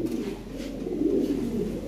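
Pigeons at a pigeon sale coo in a low, steady, rolling drone, close and continuous throughout, with no talking.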